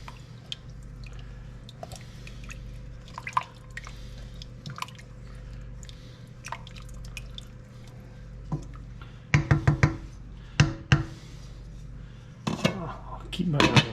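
A spoon stirs beef stew in a pot, giving faint scraping and wet movement at first and then several sharp metallic clinks and knocks close by, with no talking.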